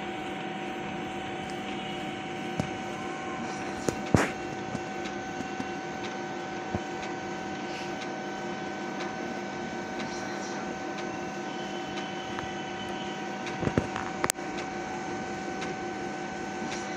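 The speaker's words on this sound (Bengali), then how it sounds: "মেশিনটা আস্তে আস্তে পিছনে যাচ্ছে, দেখুন।" A Fujifilm BMD scanner machine moving slowly backwards gives a steady, even mechanical hum with faint whirring tones and a few sharp clicks, continuous and close.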